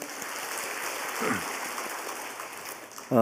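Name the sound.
congregation applauding in church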